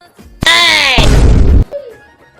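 A firecracker bursts with a sharp loud bang and a crackling tail lasting about a second, close by, followed by a short faint voice.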